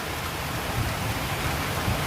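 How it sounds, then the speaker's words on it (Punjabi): Heavy rain falls in Maharashtra as a dense, unbroken hiss of drops striking surfaces, loud and close, with no voices. "ਮੀਂਹ ਬਾਵਾ ਪੈ ਰਿਹਾ ਤੇ ਆਵਾਜ਼ ਸੁਣ ਸਕਦੇ ਹੋ ਤੁਸੀਂ ਮੀਂਹ ਦੀ"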